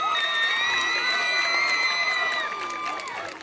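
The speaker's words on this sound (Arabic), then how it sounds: "فني أحلى تصفيق عليها وين؟" Concert crowd in Sabha, southern Libya, cheering and shouting for a performer, a steady loud wall of high voices and whoops sustained throughout with some clapping underneath.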